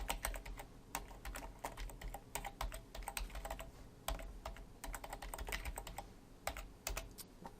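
Rapid typing on a computer keyboard while coding a Node.js project, with clustered bursts of key clicks and short pauses, close and fairly quiet, no talking.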